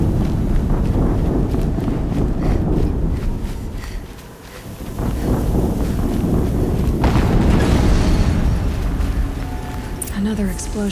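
Explosions in the video game Horizon Zero Dawn, a steady loud rumbling roar with heavy low booms, dipping briefly midway before building again, with game voice and sound effects layered over it.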